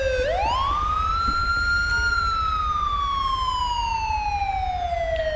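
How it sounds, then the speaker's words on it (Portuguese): A fire truck siren in the GTA V video game sounds loud and close, alone. It sweeps up in one quick rise, then wails down in a long, slow fall. "essa sirene já tá me dando nos nervos, mano. É do caminho dos bombeiros ali"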